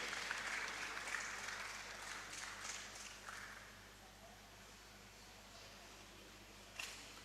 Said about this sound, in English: Please, let's give her a round of applause as she takes her seat here.